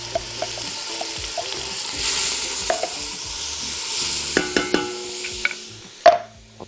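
White onions fry in oil until golden with a steady sizzle, while a spoon scrapes and clinks against the pot in sharp separate knocks, one loud clank near the end. No voices.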